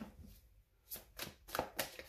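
Tarot cards riffled and shuffled by hand, a few short papery bursts of flicking cards, close and fairly quiet, with soft pauses between them.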